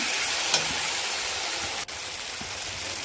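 Spiced phabo mash with red chilli and masala being stirred in a frying pan, giving a steady close sizzle with soft scraping stirs throughout and no voices.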